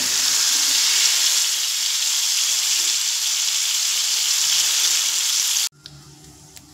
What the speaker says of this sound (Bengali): দেখুন, ঝিঙেটা কিন্তু আমার ভাজা হয়ে গেছে।